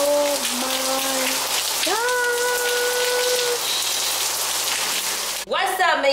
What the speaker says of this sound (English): It's raining, you guys.